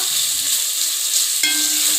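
Onions sizzling in hot oil for a chicken biryani tempering, a steady loud frying hiss with faint stirring, no talk.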